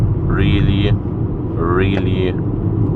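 A VW Golf 5 drives along a road at sunrise, its interior filled with a strong, steady low rumble of engine and tyres, while a voice sounds over it in two brief bursts.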